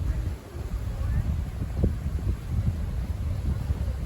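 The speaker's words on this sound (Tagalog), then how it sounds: "Super mahangin." Strong wind on a hilltop by the sea buffets the microphone with a low, rumbling roar that holds steady throughout. Faint voices can be heard beneath it.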